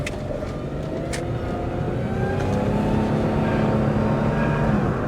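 A 1998 Pontiac Grand Prix GT drives along with a steady engine drone and road rumble, the pitch rising as it accelerates, heard from inside the car.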